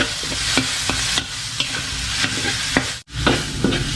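Garlic and shallots stir-frying in a pan sizzle loudly and steadily up close, broken by quick rhythmic spatula scrapes and clacks against the pan, one brief pause, and no speech.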